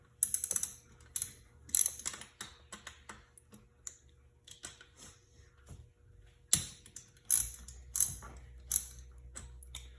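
A hand ratchet loosens the two bolts holding the APV valves on a snowmobile, producing close, sharp bursts of rapid clicking and separate metallic knocks, irregular and spaced out over quiet pauses.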